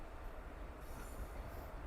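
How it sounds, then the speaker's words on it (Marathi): Surat–Bhusawal passenger train pulling into a station, a steady broad rumble of rolling wagons with faint high wheel squeal, close and continuous with no talk. "ट्रेन आली रे."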